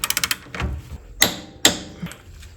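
Eighteen-millimetre camber arm eccentric bolt with a 21 mm nut being tightened to torque on a car's suspension: a quick burst of ratcheting clicks, then a few sharp metallic clacks and knocks from the wrench, close and fairly quiet.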